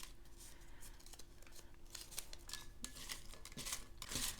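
Slips of paper being handled and unfolded, a run of soft close crinkles, rustles and small snips scattered through the quiet, growing busier and louder toward the end.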